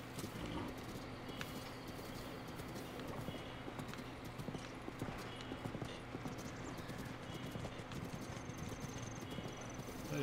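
Horse hooves clip-clopping at a steady rhythm in The Legend of Zelda: Breath of the Wild, quiet and continuous against a faint outdoor ambience with insect chirps, no voices over it.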